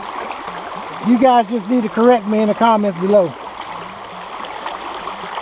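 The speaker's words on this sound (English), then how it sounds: "Back home, we call this a creek." A creek on the 2nd Broad River near Thermal City runs with a steady, close rushing flow beneath someone talking through the middle of the clip.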